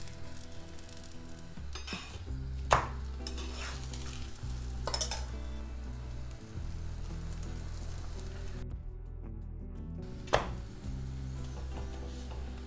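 An aloo paratha cooks with ghee on a pan, giving a continuous, even sizzle with a couple of sharp utensil clicks along the way.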